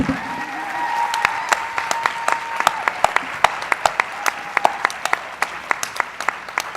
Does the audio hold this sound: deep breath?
no